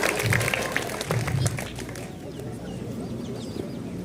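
Audience applause at a Republic Day school program in Dehradun, Uttarakhand, as an invited guest is welcomed: a dense, steady wash of clapping from a crowd that thins slightly toward the end.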